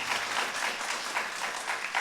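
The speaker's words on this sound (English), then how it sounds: "Maybe we can have a huge round of applause to the organizers." Audience applause for the student organizers at a university talk event, a dense, even patter of many hands clapping at moderate loudness throughout a short stretch.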